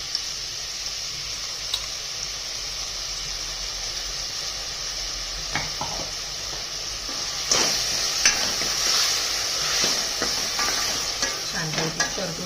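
Ground green chili, garlic and cumin paste sautés with soft cooked onion in a pan for a rustic red lentil curry. A continuous low sizzle runs under several spoon stirs and scrapes, and the frying grows livelier midway.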